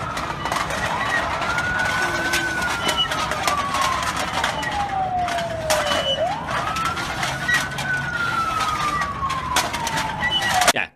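An ambulance siren wails in long, smooth sweeps, gliding up and then slowly down in two full cycles, loud and continuous over a low traffic rumble.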